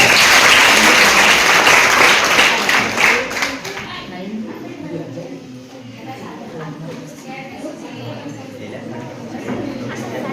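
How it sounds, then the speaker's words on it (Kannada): A school maths quiz audience bursts into loud applause after a correct answer, dense clapping that fades after a few seconds into murmuring chatter and scattered voices. "ಜೋರ ಚಪ್ಪಾಳೆ"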